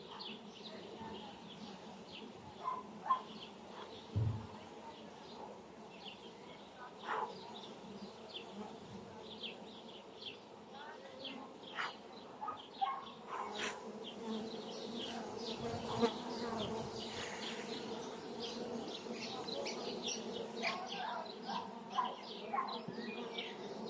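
Honey bees swarm around frames of an open hive that is rich in pollen and food stores and preparing to swarm, a steady close buzz throughout with scattered sharp clicks and handling knocks.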